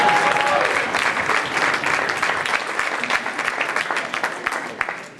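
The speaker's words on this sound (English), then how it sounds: "This is when you're supposed to applaud" Audience applause at an anniversary dinner for ABC House, a dense round of clapping from a room of diners that swells at first and then gradually thins out and fades.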